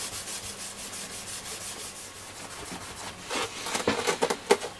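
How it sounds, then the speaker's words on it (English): Duraglit polish scrubbed onto the old slider of a Bush VTR178 video recorder, a quiet, rapid back-and-forth rubbing that grows more vigorous and scratchy toward the end. "Be careful scrubbing at some of this stuff, because it is old and you can take the surface off."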